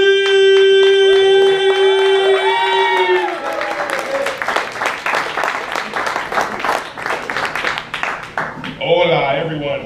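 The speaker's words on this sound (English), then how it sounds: "Make a whole lot of noise for our next comedian up on the stage." Comedy club audience at a standup night breaks into loud applause and cheering for a comedian, sustained clapping building after a host's voice finishes speaking.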